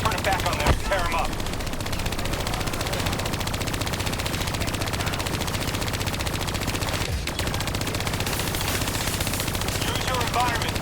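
Gunfire in Call of Duty: Black Ops 3 comes as continuous rapid automatic bursts with a few heavier shots standing out, loud and dense throughout, and a voice talking faintly underneath.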